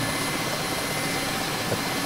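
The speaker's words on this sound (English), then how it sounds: "that, for the most part, is the helicopter switched on and ready to fly." A Mil Mi-8 MTV helicopter idling with engines and rotor running in the DCS flight simulator, a steady broadband turbine whine and rotor roar with a constant high tone, even and uninterrupted.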